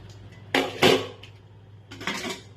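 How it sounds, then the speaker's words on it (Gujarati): A pressure cooker set down for making idli, two close metallic clunks and clatters of cookware about a third of a second apart, then a softer scrape and rattle of pans a moment later. "આ કુકરને અહીંયા મૂકીશ"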